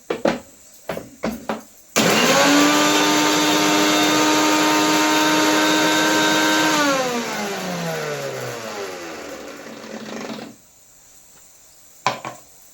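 A kitchen mixer grinder chops 9 to 10 green chillies finely, starting with a loud steady high whine, running for several seconds, then winding down in pitch as the motor slows and stops, framed by a few knocks.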